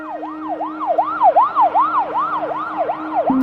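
Ambulance siren wails in a fast, regular up-and-down yelp, loud and close, repeating steadily for several seconds before cutting off abruptly at the end.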